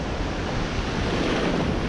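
Ocean waves breaking on Virginia Beach, a steady rushing wash of surf mixed with wind, fairly close and continuous with no talking.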